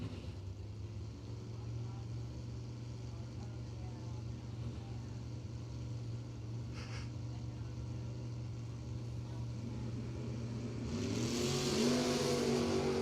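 A drag race between a 1966 Chevy II and an S10 Chevrolet on a racetrack, engines droning steadily at a distance, with a rising roar as the cars accelerate near the end, while an announcer talks throughout.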